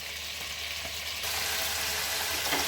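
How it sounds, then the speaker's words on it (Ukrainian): Steady, close sizzling of meat frying over fairly high gas in a hot pan, crackling grows louder partway through, with a faint scrape near the end. "М'яско смажимо трошки на більшому газі, щоб воно навіть де-не-де підрум'янилося."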